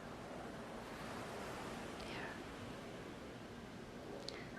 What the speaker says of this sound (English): The ocean, the waves, the white sand.